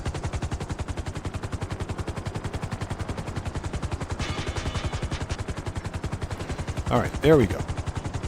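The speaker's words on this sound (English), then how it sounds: "let's land this stupid helicopter and get this over with" Helicopter landing in GTA 5 Online, its rotor beating in a fast, steady pulsing chop throughout, fairly close and continuous, with someone briefly speaking over it near the end.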